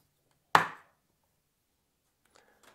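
A Hasal Mosaic chopping machine snaps down through white marble in one sharp, loud crack followed by a quick decaying rattle, then near silence with a couple of faint small clicks at the end.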